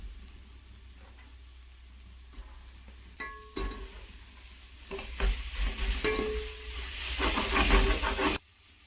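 Tomatoes and onions frying in a pan for chicken biryani and being stirred, scraping strokes over a hissing sizzle that grows louder and busier toward the end before cutting off, close by.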